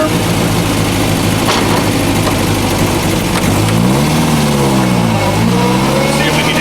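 An MGA sports car engine pulling hard from inside the car, a loud steady drone that dips at a gear change, then climbs and falls again as the revs swing, with someone talking over it.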